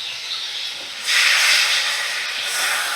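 Ginger garlic paste hits hot oil in a pan beside boiled mung and split pea dal, a sudden loud hiss that swells and then holds steady, alone without talk.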